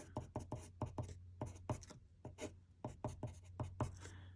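A pen scratches across paper in short, quick strokes, like someone jotting down math notes. The strokes are faint and close, with brief pauses between clusters.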